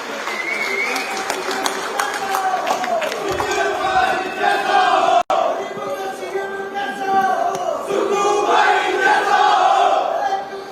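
A large outdoor crowd at a relief-distribution ceremony for a chief minister on Paddal ground in Mandi, Himachal, claps and cheers loudly and steadily for about ten seconds, with a brief cut midway.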